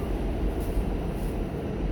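Steady low rumble of a northbound New York City MTA subway R train in motion, a continuous close drone of wheels and car noise with no talk.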